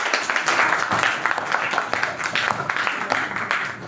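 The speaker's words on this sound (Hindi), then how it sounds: "जोरदार तालियां हो जाए" Audience claps for a school class group song at a Hindi Day program; steady, fairly close applause runs throughout without a break.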